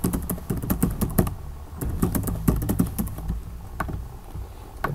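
Rapid, uneven clatter of keys as a password is typed on a computer keyboard while setting up a CentOS 7 install in VMware Workstation, close and steady with bursts of taps and no talking.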